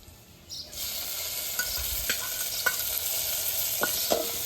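Chopped tomatoes drop into sizzling onions in a pan for Kathiyawadi guvar shaak, bringing a sudden jump to a loud, steady sizzle, with a few distinct spoon clinks as the mix is stirred.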